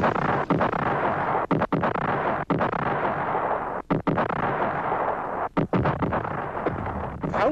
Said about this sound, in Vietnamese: Pháo lớn của ta dồn dập bắn phá các sân bay, bán đảo Sơn Trà, quân cảng Đà Nẵng